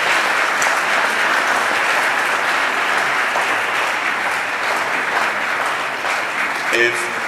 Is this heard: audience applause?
yes